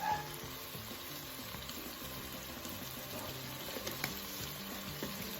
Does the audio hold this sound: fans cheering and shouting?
no